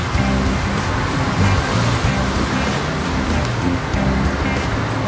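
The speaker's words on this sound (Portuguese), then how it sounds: "E agora a gente vai molhar todo o teto" A steady, loud wash of water pours over a clean car roof ahead of vinyl wrapping, a continuous close rushing hiss with no pauses.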